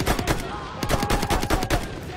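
Rapid automatic gunfire from a weapon in the video game Battlefield 1, a steady burst of sharp reports in quick succession, loud and close.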